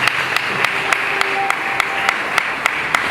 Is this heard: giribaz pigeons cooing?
no